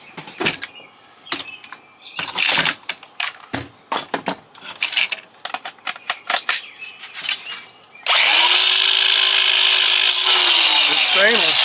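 Scattered clicks and handling knocks come first, then an angle grinder spins up and grinds stainless steel from a scrapped induction stove top in a loud, steady, close whine until the end.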